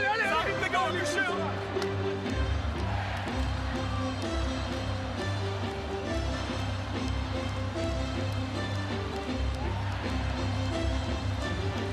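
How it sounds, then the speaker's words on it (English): Volleyball arena crowd at a Poland versus France VNL 2024 semi-final keeps up a loud, continuous roar with a steady, pulsing low rumble, heard under a speaking voice. "The crowd are bouncing again."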